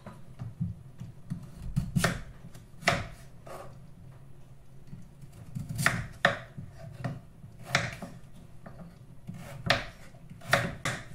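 A knife slices vegetables on a cutting board for chicken tinola, giving sharp irregular chopping knocks spaced a second or so apart, close and clear with quiet gaps between strokes.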